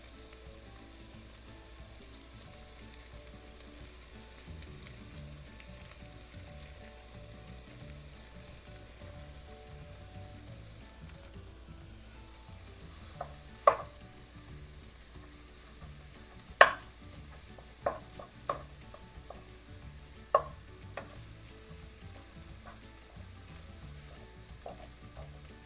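Ground meat for lasagna fries in a pan with a soft, continuous sizzle, broken in the second half by several sharp clicks and scrapes of a utensil against the pan. No one speaks.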